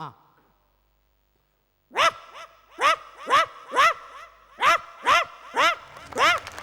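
After a short pause, a performer on a comedy stage show imitates a poor household's dog barking: eight evenly spaced, loud woofs in a steady rhythm.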